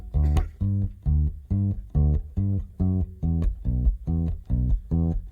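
A bass guitar plays a bouncy, evenly paced bluegrass-style intro line of plucked notes with a steady rhythm, close and clear, with nothing else playing.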